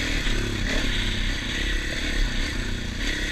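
2024 Husqvarna FE501s dirt bike being ridden, its engine a continuous loud, rough drone with clattering and scraping mixed in.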